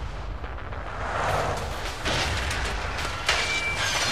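A building blows up in Saints Row: The Third, a sustained roaring rumble of explosions that swells and keeps rolling with crackling debris and a sharper burst near the end, loud and dense throughout.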